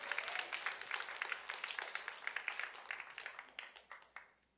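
A church congregation claps together in a burst of applause, with dense, quick hand claps that thin out and taper to a few scattered claps before stopping.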